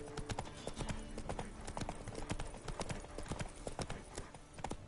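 Horse hooves clip-clopping in The Witcher 3 video game, a steady brisk trot with rapid rhythmic clops on a hard surface, faint and continuous throughout.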